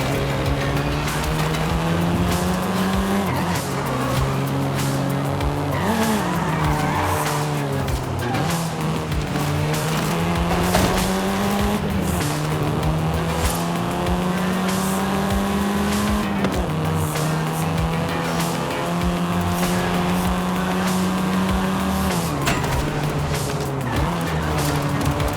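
A car in Forza Horizon 5 drives hard with a loud, continuous engine roar that rises and falls through gear changes, and repeated tire squeals and skids cut through it. No one speaks.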